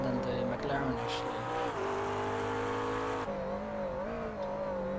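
Ford GT and McLaren GT race cars run in the iRacing simulator, engines humming steadily with pitch rising and falling through corners while a voice talks over them.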